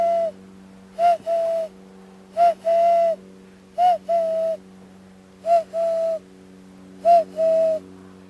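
A person imitates a cuckoo's call, repeating a two-note whistled hoot six times in even pairs, the second note longer, close and clear over a faint steady hum, with no talking.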